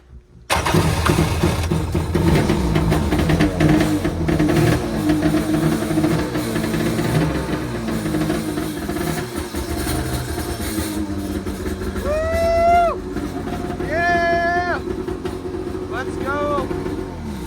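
A 1998 Arctic Cat Tigershark jet ski engine starts and runs with a steady, loud, close rumble, while voices exclaim briefly over it.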